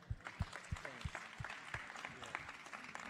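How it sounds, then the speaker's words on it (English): Audience applause after a student team presents results at a science biotic games challenge, a modest burst of clapping in a hall with some low thumps and murmur underneath. "give them a hand of applause"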